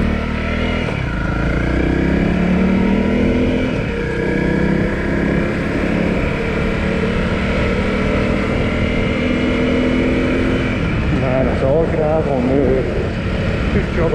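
A Honda CRF250L motorcycle on a gravel road holds a continuous, loud engine drone with a slight rise and fall, while someone talks over it.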